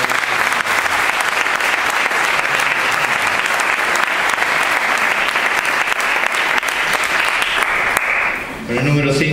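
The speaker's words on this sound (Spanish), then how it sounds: "Un aplauso muy fuerte." Loud, sustained applause from a crowd at a Partido Popular candidacy presentation in Béjar, steady for most of the clip before easing off as a voice begins speaking at the end.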